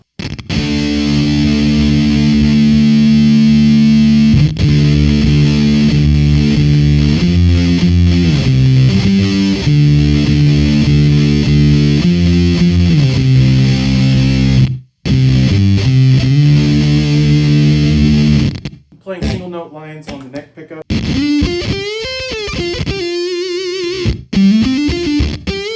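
A heavily fuzzed electric guitar through a Fuzz Imp Creature pedal plays thick, compressed sustained notes with a deep sub-octave growl, then shifts to shorter, stuttering phrases near the end.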